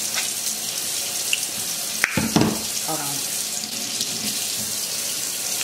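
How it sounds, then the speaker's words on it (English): Hot water runs steadily from a kitchen tap to rinse out a clogged coffee nozzle, a close, continuous splashing hiss; a voice speaks briefly partway through. "Run it over some hot water for 10 to 15 seconds."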